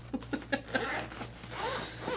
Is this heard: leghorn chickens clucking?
no